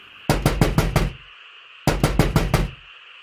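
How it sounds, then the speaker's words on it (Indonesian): Knocking on a wooden door as a horror sound effect: two bursts of five quick, heavy knocks separated by a short pause, close, loud and booming, with no voices. "tiba-tiba terdengar seperti ada orang yang mengetok pintu."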